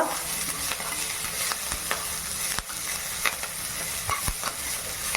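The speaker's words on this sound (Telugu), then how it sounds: "నేను వేస్తాను మిర్చి, కరివేపాకు. కలపండి వేసిన తర్వాత." Green chillies and curry leaves fry in hot oil while being stirred, a continuous crackling sizzle broken by sharp spoon taps and scrapes, close and unaccompanied by voices.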